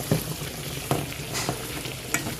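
Pork chops with zucchini and other sides cooking in a pan, a soft continuous sizzle with a handful of scattered clicks and utensil taps, close by and free of talk.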